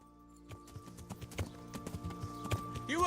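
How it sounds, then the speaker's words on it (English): A horse's hooves clip-clop in a steady, brisk rhythm in the video game Kingdom Come: Deliverance, fairly close and distinct, ending with a brief vocal cry over the hoofbeats. "Can you fucking turn around, you stupid horse?"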